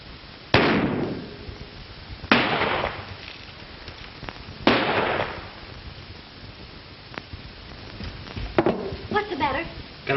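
Gunshots ring out in an old western movie shootout, three sharp, echoing reports spaced a couple of seconds apart, followed by quieter scuffling and a brief spoken voice.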